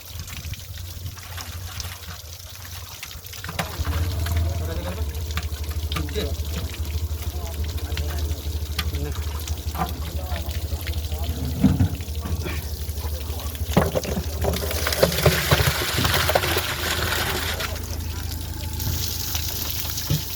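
Water is poured into a pot at a fish pond, a continuous splashing trickle that grows stronger and more gushing toward the end, with people talking nearby.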